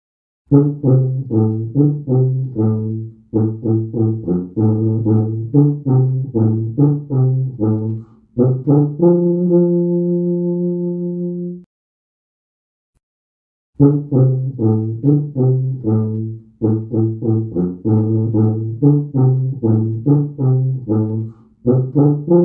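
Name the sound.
tuba played low in its range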